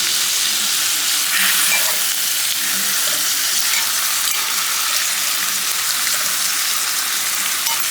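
Food cooks in butter in a covered pan, giving a loud, continuous crackling sizzle that stays dense and even throughout, with no voices.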